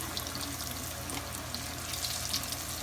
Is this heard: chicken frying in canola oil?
yes